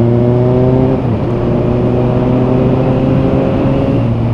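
A car engine revs and pulls hard along a straight stretch of road, a steady loud drone with rising engine tones and road noise, no talking over it.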